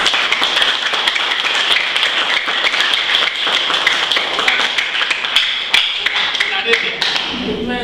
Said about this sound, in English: Can you clap for Jesus Christ?